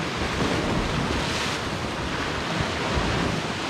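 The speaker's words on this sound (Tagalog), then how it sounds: "Likot ng dagat." Rough sea surf on the Bermuda shore, a steady broadband roar of waves under strong wind buffeting the microphone, loud and continuous with no voices.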